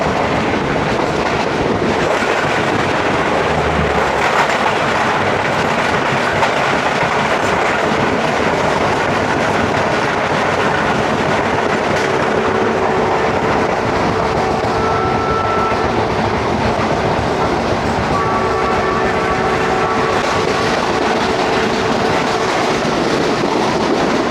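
The Tezgam train runs through Aminabad station without stopping, past the standing Jaffar Express, with a continuous loud rolling roar and steady clickety-clack of wheels on rails throughout.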